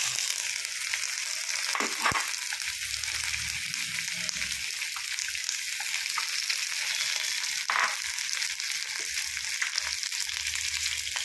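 Chopped ivy gourd frying in a pan for a Kerala prawn curry gives a loud, steady sizzle that lasts throughout, with a few brief stirring scrapes and no talking.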